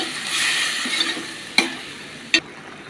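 Chopped tomato and a spice mix with cardamom and cinnamon sizzle as they are stir-fried in a pan for a Chittagong fish-head dish. A steady frying hiss runs throughout, broken by two sharp scrapes of the spatula.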